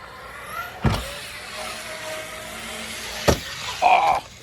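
An Arrma Outcast 4S RC car runs in a skate park, its electric motor whining in short bursts between two sharp impact thuds, heard close with no talk.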